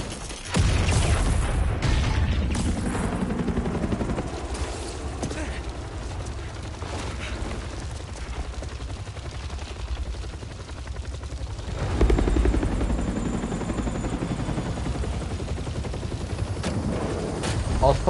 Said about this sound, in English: Oscorp have their own private helicopters.